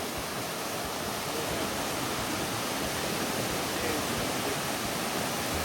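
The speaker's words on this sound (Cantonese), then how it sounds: "啲水係河貝水塘沖落嚟㗎" Heavy water rushing down from the Ho Pui Reservoir outflow on a hiking trail, a loud, steady broadband roar that holds unbroken and close throughout.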